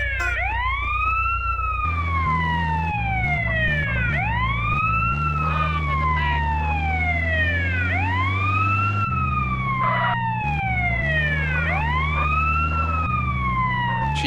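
A wailing ambulance siren in GTA San Andreas, loud and close, sweeping up and down in repeated long cycles over a low engine rumble, with no talking.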